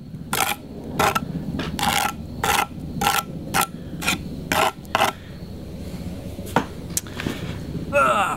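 A wooden board is smoothed by hand with repeated scraping or rasping strokes, about ten rhythmic bursts close to the microphone, during anchor-bolt work on a tiny house build.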